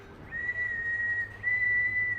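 A steady, fairly high whistled tone held for about a second, a short break, then another sustained whistled note, over a low background hum.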